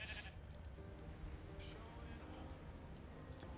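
Sheep in ARK bleats faintly amid a dense farm ambience, with a brief wavering call partway through, while a person talks over the low, noisy background.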